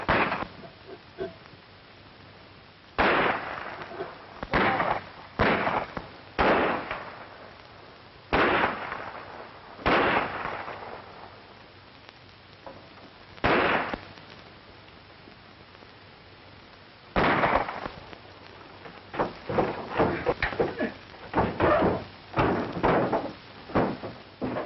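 Gunshots ring out in a western film shootout, loud sharp cracks coming in irregular bursts and single shots, some close together in rapid volleys, with echoing decay between them.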